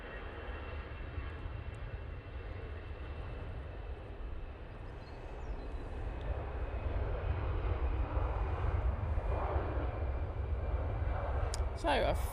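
A Boeing 777 arrives at Manchester Airport, its jet engines a broad low roar that swells steadily as it approaches, with someone talking over the noise.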